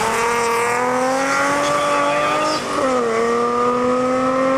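Race car number 330 in a historic (VH) hill climb at Wangenbourg-Engenthal roars past close by, a loud sustained engine note that dips briefly as it shifts gear, then pulls on with a slightly falling pitch.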